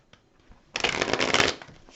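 A quick riffle of tarot cards being shuffled close by, a dense papery flutter lasting under a second after a few light taps.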